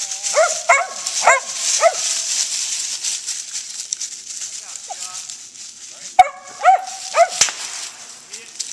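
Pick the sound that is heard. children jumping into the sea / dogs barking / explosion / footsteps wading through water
dogs barking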